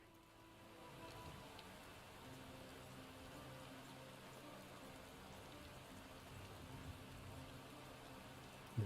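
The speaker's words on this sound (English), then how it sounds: "Oh, it did rain." Steady rain in a video game (Final Fantasy XIV: Shadowbringers) pattering on surfaces, a continuous soft hiss at moderate distance with no talking.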